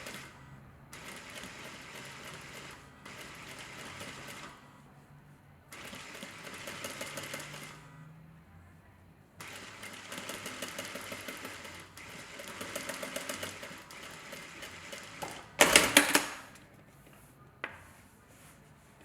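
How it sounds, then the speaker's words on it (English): A sewing machine stitches a pillow cover in bursts of fast, steady whirring separated by short pauses, quiet and close, with a sharp clatter near the end. "I now have it sewn at the bottom and the top of the design."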